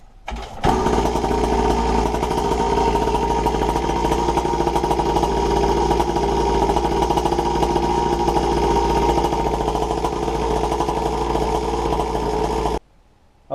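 A 49cc mini bike engine catches and settles into a steady idle, loud and close, its buzzing drone running unbroken for about twelve seconds before cutting off abruptly.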